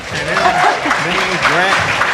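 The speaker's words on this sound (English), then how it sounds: "Let's please give him a round of applause." Dinner audience applauding a guest as he comes up at an entertainment and student outreach event, a steady close wash of clapping with voices talking over it throughout.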